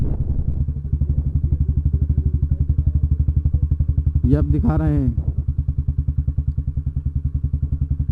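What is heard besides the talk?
motorcycle riding inside a fort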